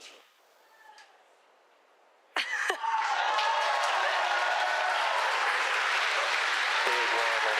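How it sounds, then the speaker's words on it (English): Applause and cheering from a crowd at a SpaceX Falcon 9 first stage landing erupt suddenly and swell into a sustained, dense roar, following a quieter stretch where a voice talks faintly. "You can hear the cheering in the background."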